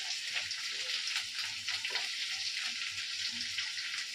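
Onion and chili fry in a pan with a continuous soft sizzle, close and fairly quiet, with faint kitchen clatter underneath and no speech.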